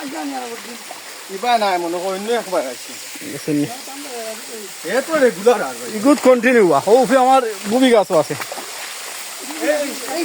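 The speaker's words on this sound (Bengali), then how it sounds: "এই সেই ঝর্ণা আসলে সুন্দর একটা ঝর্ণা ঝর্ণার পানি সুন্দর করে" A waterfall-fed stream in hilly Kalapahar country rushes with a steady, broad wash of water in the background, while voices talk over it almost the whole time.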